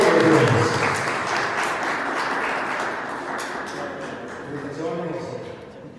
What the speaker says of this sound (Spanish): Un aplauso para José, que va a pasar a ser hijo de Dios.